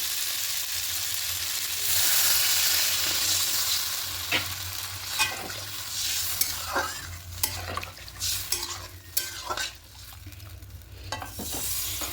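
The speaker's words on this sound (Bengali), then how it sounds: "এবার এখানে জলটা অ্যাড করে দেবো" Water pours into a pan of sizzling, well-fried spices for a thin pabda fish curry with potato and tomato, a loud hiss swelling and fading, followed by scraping stirs and clinks of a spoon against the pan.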